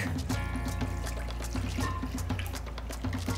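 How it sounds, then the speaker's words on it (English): Parle-G biscuit-flavored milk is poured in a steady stream, with soft rhythmic glugs and a splashing trickle throughout, close and fairly quiet. "Pour in my Parle-G milk."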